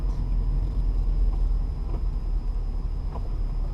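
Manual-transmission car engine rumbling steadily as the driver feathers the clutch and adds a little gas while turning slowly through a parking lot, a continuous low drone with no talk.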